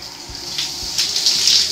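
Water sprays from a StoneStream filtered shower head in a steady, hissing rush, with splashing surges as the stream hits a surface nearby.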